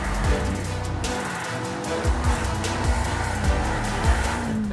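A green BMW M5 CS with a 4.4-litre twin-turbo V8 driven hard, engine note repeatedly rising and dropping through quick gear changes and revs, loud and close, with no talk.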